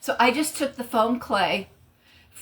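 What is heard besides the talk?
No everyday noises stand out.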